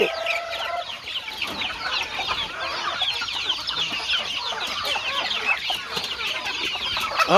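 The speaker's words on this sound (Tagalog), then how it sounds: "Ito yung mga pato, manok." Chickens clucking continuously among farm fowl, with ducks also present, a dense close chorus of overlapping calls lasting throughout with no talk.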